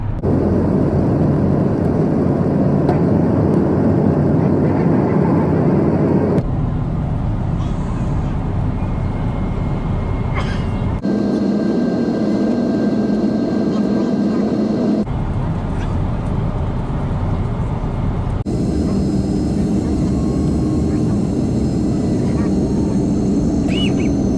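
Loud steady roar of an airplane cabin and engines, continuing through several cuts, with a voice speaking over parts of it.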